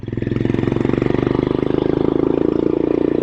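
A Royal Enfield Scram 411 motorcycle with a stainless AEW Thunder exhaust pipe idles steadily up close, a low, even, rapid chugging that holds throughout with no change in pace.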